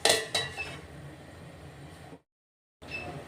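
A metal lid goes onto a cooking pot of boiling water for pithla, with a couple of sharp clanks at the start and a short scrape, then a quiet hiss before brief silence.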